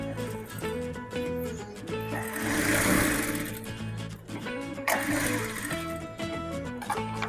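A sewing machine stitches a cargo pocket in a run of fast, whirring mechanical clatter that rises and falls, with short pauses and bursts, fairly close and moderately quiet.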